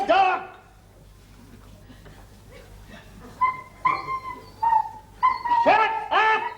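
Dog in a 1977 comedy sketch, at first quiet, then a run of short whimpers and yips followed by louder barks near the end, close and clear with no talk.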